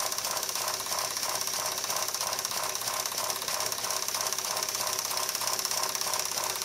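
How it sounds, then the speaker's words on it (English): A Miller Junior Engineer model steam engine runs at a steady pace, giving a fast, even mechanical clatter and rhythmic thumping that continues alone without a pause. "And the little Miller Junior keeps thumping along."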